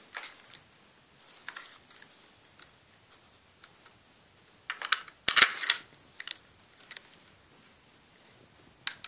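A Rössler Titan 6 rifle is slid into its plastic case, producing light scraping and rustling followed by a sharp plastic clack and a few small knocks, close and fairly quiet.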